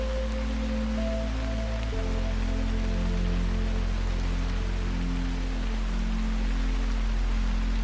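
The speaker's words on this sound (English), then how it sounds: "Outside, the rain continues on the leaves of the great oak above you." Steady rain patters continuously on leaves, with a low, soft drone of music beneath it.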